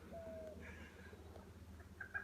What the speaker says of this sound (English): I can hear lots of birds down here. Sounds like coots or something. Maybe some kinds of herons.